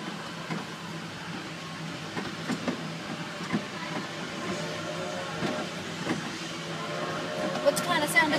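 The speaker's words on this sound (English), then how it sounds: "What kind of sound does the train make?" A small mall ride train runs steadily with a continuous rumbling hiss and light rhythmic clacking, punctuated by occasional knocks, while people talk nearby.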